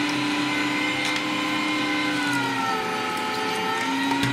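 A Bosch electric meat grinder runs steadily, its motor giving a loud, continuous whine with a slight change in pitch partway through and faint clicks, no voices.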